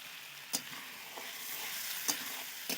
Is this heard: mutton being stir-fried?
yes